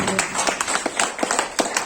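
Audience clapping at a teachers' forum farewell ceremony in Wagoora, Jammu and Kashmir, a short dense burst of many hands with no one speaking.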